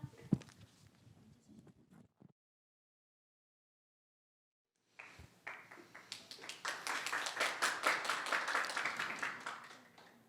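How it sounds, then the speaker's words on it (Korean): Audience applause at a tech conference welcoming a speaker from Humanscape, swelling after a brief silence into sustained clapping from a room of people, loud and dense before fading at the end; faint talk precedes the gap. "저희가 바로 박수로 모셔보도록 하겠습니다"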